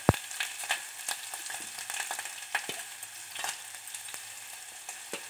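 Garlic frying in a pan of oil for palak sambar, a steady close crackling sizzle with scattered sharp pops and a few spoon stirs, no talking.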